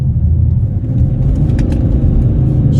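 A BMW 330d diesel at light, quarter throttle, heard from inside as a steady, loud low engine rumble with road noise, holding an even drone throughout with no talk.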